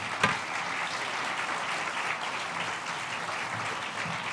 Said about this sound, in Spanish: me gustaría con un fuerte aplauso darles un agradecimiento